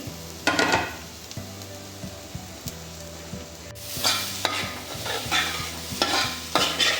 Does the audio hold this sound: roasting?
yes